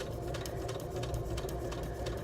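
Home sewing machine running a slow straight stitch, a steady close mechanical whir with faint regular ticking of the needle throughout.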